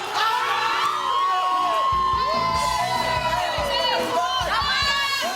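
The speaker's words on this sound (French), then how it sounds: "Toutes les fois qu'il y a un but, je hurle." A man yells with excitement as a goal is scored during a televised football match, loud whoops and shouting with crowd-like cheering filling the whole stretch.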